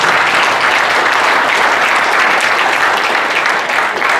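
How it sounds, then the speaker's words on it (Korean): An audience at a Korean Army ROTC-style security forum applauds loudly and steadily throughout, a dense wash of clapping from many hands with no talking over it. "대략 이 정도 나가면 박수는 자동적으로."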